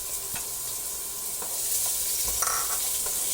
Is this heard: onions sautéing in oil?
yes